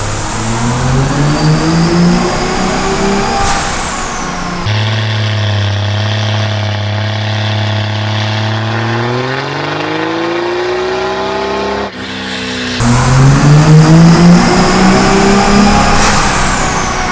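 A car engine revs on a dyno with a high, sustained scream that climbs, then drops to a lower droning pull that rises steadily before the loud high-rpm wail returns, all without talk.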